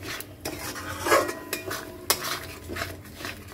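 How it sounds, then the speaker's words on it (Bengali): A spoon scrapes and clatters against a pot as chicken is stirred and sautéed with green chillies, repeated metallic knocks in an uneven rhythm close by, no talking. "আর এখন চিকেনটা ভালো করে কষিয়ে নিচ্ছি"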